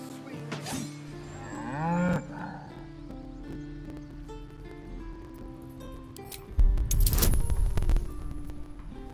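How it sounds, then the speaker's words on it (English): A cow lowing in Baldur's Gate 3, heard as a few drawn-out moos up close amid game ambience, with a louder burst of noise and clatter toward the end. "Moo!"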